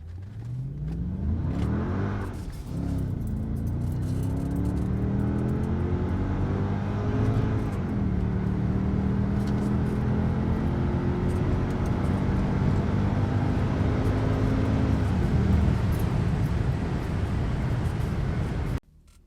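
Mercedes CLK55 accelerating hard with its wheels spinning, a loud continuous engine roar with rising revs that climb, dip briefly at each shift, and climb again for nearly twenty seconds before cutting off abruptly.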